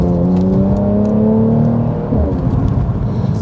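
Mercedes C43 AMG pulling away hard on a road, the engine note rising steadily in pitch through the gear before a shift, loud and close from inside the car.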